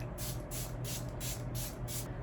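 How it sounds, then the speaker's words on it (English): Milani Original Setting Spray misted onto a face in six short, even hissing bursts with steady rhythm, close and fairly loud, with no talking. "This is the Milani Original Setting Spray,"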